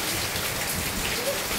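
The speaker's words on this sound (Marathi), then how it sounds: "लय मोठा पाऊस आहे, लय." Heavy, steady rain pouring down in a storm with strong wind, a dense close hiss with no break and no voices.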